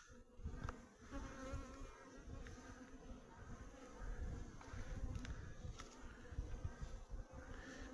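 Honey bees buzz steadily in a beehive, a dense, continuous close hum with occasional sharper clicks and knocks of handling.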